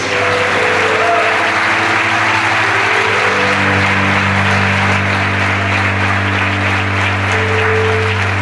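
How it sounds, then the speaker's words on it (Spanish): Continuous crowd applause at a church service, steady and dense throughout, with sustained low musical notes underneath. "¿Cuántos le dan un aplauso a Jesús?"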